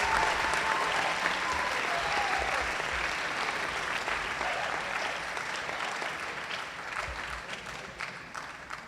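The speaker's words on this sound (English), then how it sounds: "So if we could give our seniors a big round of applause for all they've done." A crowd in a school gym gives seniors a long round of applause at a fall sports awards night, steady dense clapping close and loud that tapers gently by the end.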